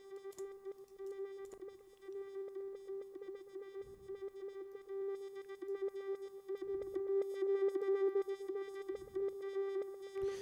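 A steady Reaktor synthesizer oscillator drone holds one pitch with stacked harmonics, run through a stereo VCA. It hums continuously at moderate, slightly rising volume, broken by a few brief low thumps and clicks, with no voices.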